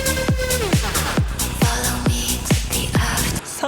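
Music track with its low bass rolled off below roughly 100-120 Hz, a steady beat with repeated punchy hits and a full mix, played alone without talk.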